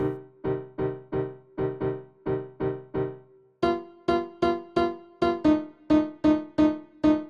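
A grand piano VST on its default sound plays a steady pattern of repeated chords, evenly spaced and fairly soft, shifting to a brighter, higher voicing midway through.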